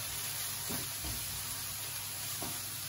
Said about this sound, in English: lightly fry those off